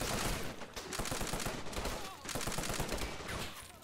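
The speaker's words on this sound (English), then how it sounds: "We got a 30 caliber machine gun here going nuts." A .30 caliber machine gun fires in a World War II airborne and armor assault video game, delivering dense rapid bursts of loud gunfire that continue almost without pause, with brief dips between volleys.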